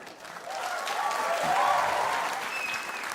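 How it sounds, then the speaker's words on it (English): A comedy show audience claps in sustained, loud applause that swells slightly and holds steady throughout, with no voices over it. "Clap if you're here from TikTok."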